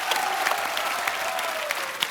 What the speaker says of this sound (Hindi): यामी के लिए भी जोरदार तालियां